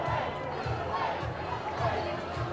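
A dense crowd at Democratic election headquarters on a 2018 Minnesota midterm election night celebrates with loud overlapping cheering and chatter, rhythmic surges of voices close by.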